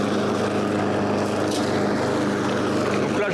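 A petrol lawn mower runs steadily at the edge of a wood, chewing through small dead branches. Its constant droning engine roar stays loud and close throughout, with no talk.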